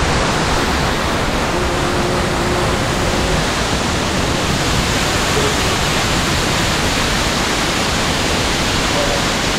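A mountain waterfall swollen by monsoon rain, used as a natural car wash in the hills, roars as a dense, constant wash of falling water, loud and close with no pauses.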